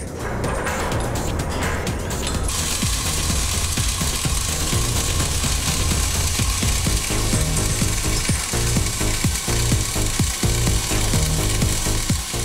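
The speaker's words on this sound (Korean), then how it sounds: "볼트 작업은 상판의 내부 공간에서 이루어진다." Ratchet wrench tightening bolts inside a steel deck segment of the Incheon Bridge during construction, a steady run of close, rhythmic clicking and metallic rubbing against a dense, continuous worksite background.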